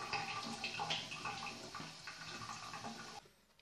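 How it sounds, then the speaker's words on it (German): Water from a tap runs steadily over an avocado pit as it is rinsed, a continuous faint splashing stream that cuts off near the end. "Jetzt werde ich ihn nur noch einmal mit Wasser schön waschen."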